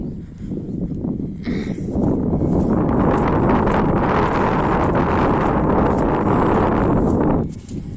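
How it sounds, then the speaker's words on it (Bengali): Strong wind blows outdoors, rumbling and buffeting close against the microphone in a loud sustained gust that rises, holds and then eases off at the end. "কি সুন্দর বাতাস দেখছস"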